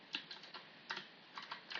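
Quiet clicks of keys on a computer keyboard as code is typed, in short uneven bursts of taps with brief pauses between them.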